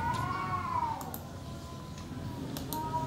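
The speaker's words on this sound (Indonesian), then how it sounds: "kita di luar ada kucing sedang berantem" Cats meowing and yowling in a quarrel outdoors, drawn-out wavering cries rising and falling over a steady background hiss, with a few faint ticks, no talk.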